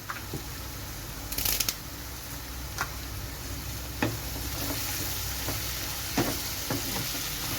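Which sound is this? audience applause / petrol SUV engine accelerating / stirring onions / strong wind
stirring onions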